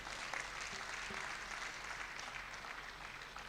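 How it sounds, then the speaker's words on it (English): An audience applauding at a dental school alumni homecoming and fundraising anniversary event, a faint, steady wash of many hands clapping, distant and even throughout with no voices standing out. "A round of applause again"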